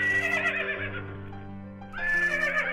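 A Minecraft horse whinnies twice in the game, shrill and drawn out, over a steady background music bed, with a brief gap between the calls.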